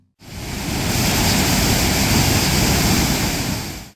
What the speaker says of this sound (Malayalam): സഞ്ചാരികളുടെ മനസ്സ് കീഴടക്കുന്ന വെള്ളച്ചാട്ടങ്ങളിലൊന്നാണ് വെള്ളത്തുവൽ പഞ്ചായത്ത് പരിധിയിൽ വരുന്ന ചുനയമാക്കൽ വെള്ളച്ചാട്ടം